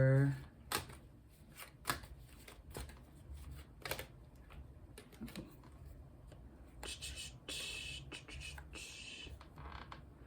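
Tarot cards are shuffled by hand in a series of quick, crisp riffles and papery snaps, close and moderately loud, with a voice talking in between.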